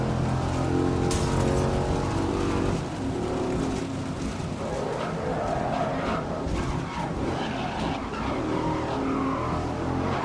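A racing car engine in the game GRID on PS4 Pro drones with shifting pitch, with rattles and creaks from the cabin and occasional tire squeals, loud and close.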